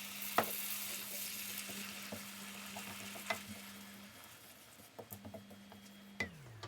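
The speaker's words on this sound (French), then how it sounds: "Maintenant, on va ajouter la sauce tomate." Tomato sauce for a Neapolitan pizza goes into a hot pan, where it gives off a soft, low sizzle, broken by occasional light scrapes and taps of stirring and a faint steady hum.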